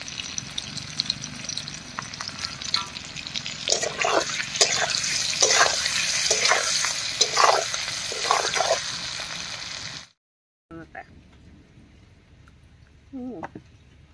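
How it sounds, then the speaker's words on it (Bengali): Potatoes sprinkled with salt and turmeric fry in hot oil, a steady sizzle with bursts of stirring scrapes for about ten seconds, then a cut to a much quieter stretch with a few faint clinks. "আলুগুলো ভাজা হয়ে গেছে, নামিয়ে নিচ্ছি।"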